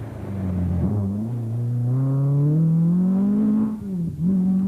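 George Robinson's Ford-engined Toyota rally car at the 1992 Donegal International Rally, engine note climbing steadily under load, loud and close, then dipping sharply before picking up again.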